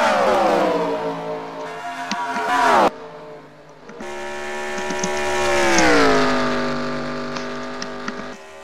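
Stock cars in a NASCAR racing video game roar past the start line, a loud, rising and falling engine drone with a brief lull before the rest of the field surges through, under a race commentator's voice.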